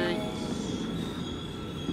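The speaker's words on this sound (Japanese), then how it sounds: "初めての地下鉄" A subway train in South Korea rumbles along its track, steady and close, with a thin wheel squeal riding over the low roar.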